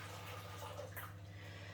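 Boiled water from a kettle pours into a cake tin for baking a cheesecake, a soft continuous watery rush, faint and steady, over a low hum.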